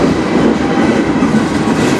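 A CN freight train rolls past close by on the Strathroy Sub near Sarnia, Ontario, a loud, dense, continuous rumble and rattle of rail cars.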